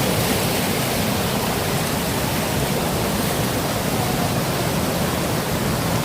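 Jog Falls in monsoon roars with rushing water, a loud, dense, unbroken wash of sound that fills everything evenly from start to finish, with no voices heard.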